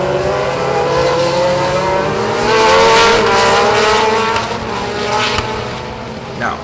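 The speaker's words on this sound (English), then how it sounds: "Maloney dives down the inside of Mears to take third, but Mears immediately fights back." Race cars in a Caribbean Motor Racing Championship race in Barbados, engines roaring together as a pack sweeps past on the track, with a steady loud drone that swells midway and then eases, plus brief higher whines near the end.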